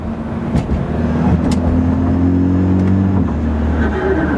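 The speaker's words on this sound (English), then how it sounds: "it feels really good, even on downshifts. Pay attention to my finger on the paddle and the needle." BMW F30 with a Bootmod3 transmission tune running through quick paddle downshifts, a steady nearby engine drone rising and dropping in pitch as gears change, with faint clicks from the cabin.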